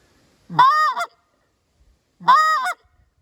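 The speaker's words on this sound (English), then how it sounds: "This is a content sound that a goose is making." A short reed Canada goose call sounds a content note paired with a cluck: two loud, clear, nasal honks about two seconds apart, each with a brief break, alone against silence.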